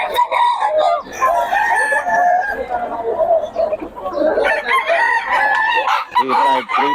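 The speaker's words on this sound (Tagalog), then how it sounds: "Puro stag kay Boss Randy." Several roosters (young stags) crow loudly and repeatedly at a live chicken sale in Bocaue, their calls overlapping with clucking and background chatter throughout.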